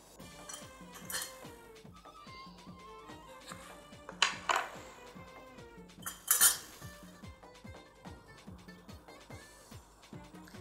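A metal fork clinks and taps against a plate as lemon is squeezed over stewed lentils, with scattered light clatters, two louder knocks and soft kitchen handling sounds throughout.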